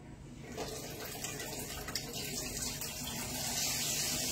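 Water running from a tap into a sink in a room, a steady close rushing splash that grows slightly louder and brighter toward the end, heard alone without talk.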